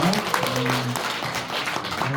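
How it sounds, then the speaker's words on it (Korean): Applause from a seminar audience in Changwon thanking two executives, a short dense patter of clapping under a sustained tonal sound and some voices. "감사의 박수 부탁드리겠습니다"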